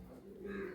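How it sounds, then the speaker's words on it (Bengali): Andhra pigeons cooing in a breeding loft, a soft low continuous coo held close by, with other birds faintly around. "এখানে আন্ধ্রা পায়রা আছে, অন্য পায়রাও আছে, রয়্যাল কালচিরাও আছে।"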